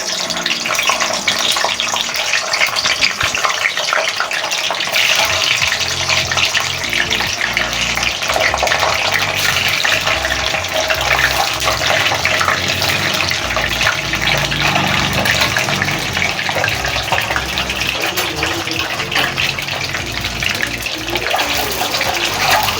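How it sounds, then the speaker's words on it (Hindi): Potato koftas fry in hot oil with a steady, loud hiss and sizzle that holds throughout, close by and with no talk over it. "इस तरह से इसको फ्राई कर लें।"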